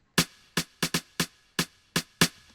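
Eight sharp snare hits from an Afro house beat ring out alone in a loose pattern, each followed by a short reverberant tail, fairly loud and close.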